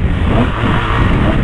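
A car engine revving hard as the car accelerates, a loud sustained drone of engine and road noise running close throughout.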